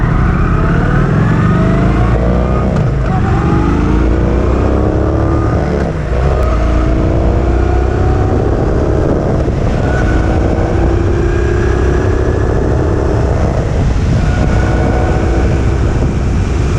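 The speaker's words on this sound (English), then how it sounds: "Listen to the sound of the engine." A Kawasaki Vulcan 900 motorcycle engine revs and accelerates loud and close, its pitch climbing steadily in long sweeping rises with shifts between them, continuous and alone with no talk.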